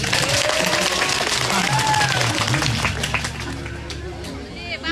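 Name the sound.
audience applause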